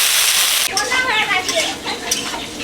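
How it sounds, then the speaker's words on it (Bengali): Potatoes and carrots frying together in white oil in a pan give a loud, steady sizzle that is briefly alone at the start, then continues under a voice talking. "আলু গাজর একসাথে ভেজে নেব"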